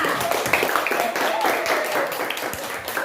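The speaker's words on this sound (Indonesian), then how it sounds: "Ya, tepuk tangan untuk teman kita." Students in a classroom clap for a classmate, a busy spread of hand claps mixed with voices and chatter, moderately loud and continuous throughout.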